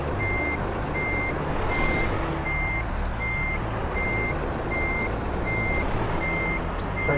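A truck in the Euro Truck Simulator 2 video game backs up with regular reversing beeps that repeat at an even pace over a steady engine rumble.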